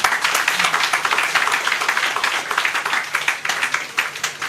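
Audience applause at a maternal health summit on ending obstetric fistula, a dense sustained clapping from many hands, loud and steady throughout the clip.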